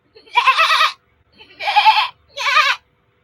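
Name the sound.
voice imitating a baby goat bleating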